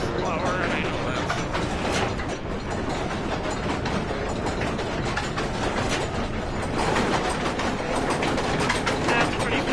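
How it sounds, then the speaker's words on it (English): A train-like mechanism in the horror game Amnesia: The Dark Descent grinds and rattles continuously, a dense, clattering ratchet-and-gear rumble with slight surges in intensity throughout. "Sounds like a train."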